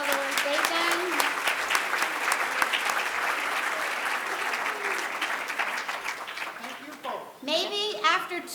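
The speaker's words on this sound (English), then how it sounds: "Give them a round of applause for all the work they've done." A conference audience bursts into sustained applause, dense and steady clapping filling the room for several seconds before tapering, with a few voices rising near the end.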